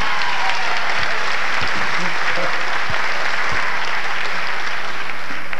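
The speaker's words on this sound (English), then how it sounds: "Give him a round of applause." A 1980 polka concert audience at the Irem Temple in Wilkes-Barre, Pennsylvania, bursts into loud, dense, continuous applause that fills the whole hall.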